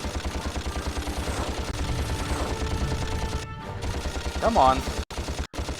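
Blaster fire in the 2002 video game Ratchet and Clank comes as a rapid, regular stream of punchy shots, loud and continuous, with a brief spoken exclamation and a couple of abrupt cut-outs near the end.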